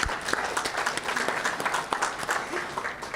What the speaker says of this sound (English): So let's give another round of applause for that.